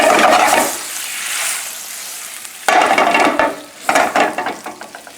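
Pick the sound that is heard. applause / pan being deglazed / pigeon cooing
pan being deglazed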